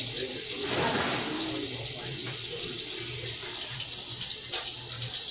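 Tap water runs steadily into a bathroom sink during face washing, a continuous broad wash of flow that holds at an even level from start to finish.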